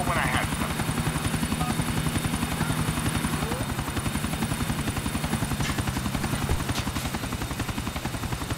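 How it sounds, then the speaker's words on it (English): A helicopter in the video game GTA IV gives a loud, close, continuous rotor thump with rapid rhythmic beating and engine whine throughout, with no speech over it. "Show up to a job interview in a fucking helicopter."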